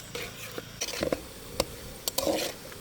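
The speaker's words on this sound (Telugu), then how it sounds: "జీడిపప్పు అయితే కనుక నేను నూనెలో వేయించబోతున్నాను" Cashew nuts fry in hot oil for a chicken and curry-leaf fry as a spoon stirs them, giving a soft sizzle broken by several sharp scraping clicks of metal against the pan.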